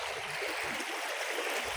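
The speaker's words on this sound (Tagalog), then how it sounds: "Kaya lang parang medyo malakas yung agos." A strong, deep river current rushes in a steady, close, broadband wash of water with no voices.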